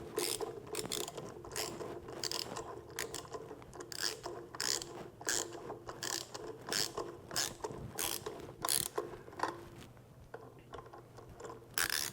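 A ratchet turns half-inch bolts on an EGR valve in a series of quick, close clicking bursts, each a short run of rapid pawl ticks separated by brief pauses.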